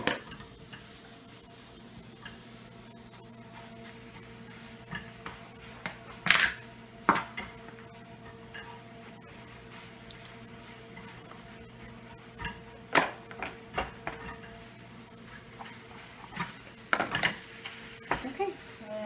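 Egg whites being stirred in a frying pan during meal prep, with scattered sharp scrapes and clinks of a utensil against the pan over a low, steady sizzle, no talking.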